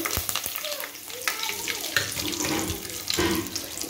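Dried curry leaves from the fridge hit hot oil in a wok for home-style fried rice, giving a close, steady watery hiss and crackle broken by a few sharp pops.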